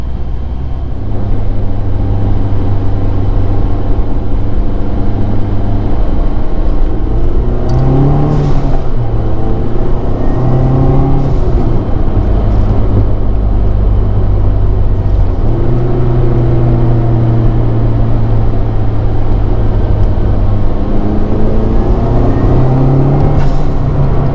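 A turbocharged 2012 Mazdaspeed 3 with an aftermarket blowoff valve drones steadily and revs through several gear changes on the road, with rising and falling pitch, loud and close throughout.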